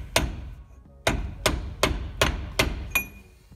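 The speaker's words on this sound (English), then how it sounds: "I'm just gonna give it a few taps with the mallet and socket to get it started here." Mallet tapping a socket to seat the pinion flange on a Toyota rear differential: six sharp, loud metallic knocks, close up, with short irregular gaps between them.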